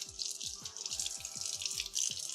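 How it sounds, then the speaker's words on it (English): Tap water runs into a kitchen sink while a kitchen knife is rinsed during meal prep, a close, steady splashing stream broken by several quick dripping, plopping knocks, with no voices. "Let me rinse my knife off."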